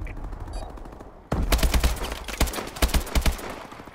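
Rapid automatic gunfire in the video game Call of Duty: Advanced Warfare multiplayer, loud bursts of shots crackling in quick succession amid game noise, beginning suddenly after a quieter stretch.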